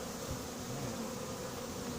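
A swarm of honeybees buzzes steadily close by during the recovery of a swarm, a continuous low drone that holds at an even level throughout, with no voices.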